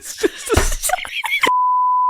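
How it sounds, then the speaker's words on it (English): A steady electronic tone sounds alone for almost a second, after a burst of talk, the way a censor beep would. "There's going to be a series of beeps."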